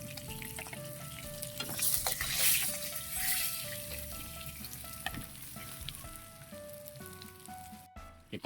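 Food fries in a pan with a continuous soft sizzle and crackle, quiet and close, while a tune plays in the background.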